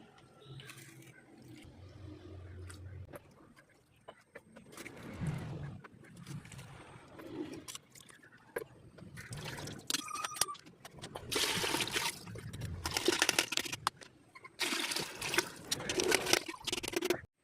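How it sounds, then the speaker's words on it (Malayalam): Homemade jackfruit wine is strained, with bursts of pouring and trickling liquid mixed with wet squeezing and handling noises. The sounds come close up, loud at times and quieter between. "എന്തായാലും നമുക്ക് ഇനി ഇതൊക്കെ ഒന്ന് അരിച്ച് മാറ്റിയിട്ട് കാണാം."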